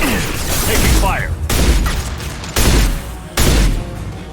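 Gunfire and blasts from the video game Mass Effect 2, with several loud broadband bursts arriving in sharp bursts about a second apart over a busy combat mix, and a voice speaking amid the shooting.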